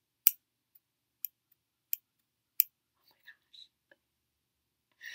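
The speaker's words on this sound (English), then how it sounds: "So these are my new fancy embroidery scissors." New fancy embroidery scissors snip four times in crisp, sharp clicks spaced about two-thirds of a second apart, very close and quiet, followed by faint whispered sounds.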